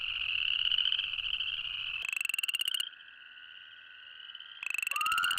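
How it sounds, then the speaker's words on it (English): Tiny chorus frogs calling in a nature setting, a loud, close chorus of rapid trilling croaks that pulse in bursts, overlap, drop to a thinner sustained trill, then swell again. "It should come from a beast of a frog with mighty lungs, but instead, it's the tiny chorus frog"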